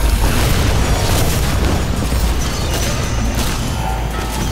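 A bomb explodes in the racing video game Micro Machines World Series with a loud, dense rumbling boom. The blast roars continuously over several seconds and fades slightly toward the end.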